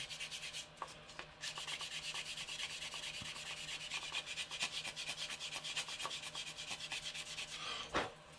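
Clay rubbed over a weathered scale model to polish a wash, making close, steady back-and-forth rubbing strokes in a fast even rhythm, with a slightly sharper scrape near the end and no talking.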